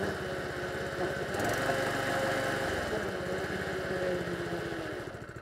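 A Camon LA25 petrol lawn aerator runs steadily nearby, its engine chugging in a continuous rhythmic drone that swells slightly as the tines work the lawn.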